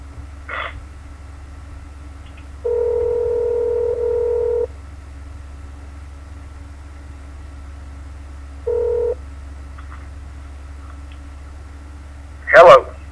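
Telephone call being placed: a short tone, then two held dialing or ringback tones, the first long and the second brief, over a steady low hum, ending with a sharp click-like burst as the line connects.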